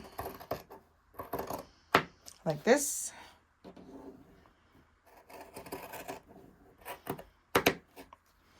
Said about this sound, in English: I'm just going to use my scissors. So we're just going to cut these right out.